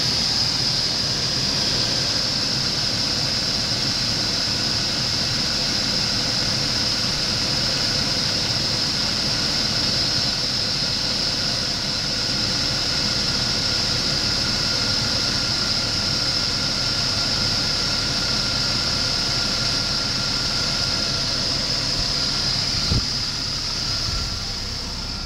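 A 2001 GMC Sonoma engine idles steadily during a salvage-yard engine test, a constant even hum with a faint high whine, unchanging and heard alone for the whole stretch.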